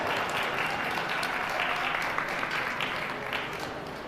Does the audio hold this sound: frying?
no